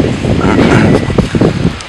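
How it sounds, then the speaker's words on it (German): Strong wind blowing outdoors, heard as a steady rushing roar with gusty buffeting against the microphone, loud and close throughout. "Heute ist es recht windig"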